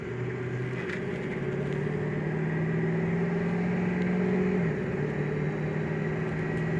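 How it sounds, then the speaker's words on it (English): A 2005 Ford Excursion's engine and turbo hum steadily while driving, a low continuous drone with a faint whine whose pitch rises gradually, then drops as the vehicle shifts. "I want to hear the turbo"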